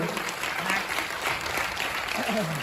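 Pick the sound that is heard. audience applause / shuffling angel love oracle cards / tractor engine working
audience applause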